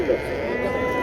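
A sheep at an Algerian livestock market gives a short bleat near the start of a brief moment, mixed with someone speaking close by.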